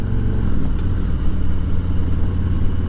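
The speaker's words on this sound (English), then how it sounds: "the M8 motor on this bike, especially the 114, got all kinds of power and torque" A 2020 Harley-Davidson police touring motorcycle with the M8 114 engine runs steadily nearby, a deep, smooth, loud rumble with a faint mechanical clatter on top.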